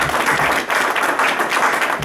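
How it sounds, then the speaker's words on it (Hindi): An audience at an Urdu mushaira poetry gathering in Saskatoon, Canada, applauds the poets with dense, steady clapping that stays close and even throughout the brief burst. "तो इन सब के लिए तालियां जिन्होंने अभी तक कलाम पढ़ा है प्लीज"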